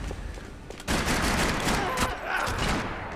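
Rapid dual Beretta pistol fire in the Max Payne 3 multiplayer game, a quick loud fusillade of close shots starting after a short quiet lead-in and running to the end.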